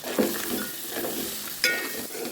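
Crabs and spice powders stirred in a cooking pan, with soft scraping and sizzling, a couple of sharper clinks from the utensil against the pan, close by and fairly quiet.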